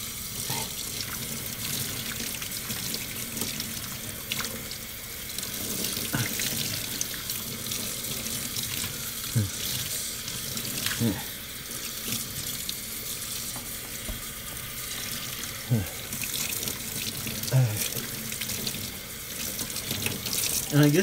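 Tap water running steadily into a sink while blue dye is rinsed out of hair, a continuous close splashing rush with occasional small knocks and shifts as the water is worked through, no speech over it.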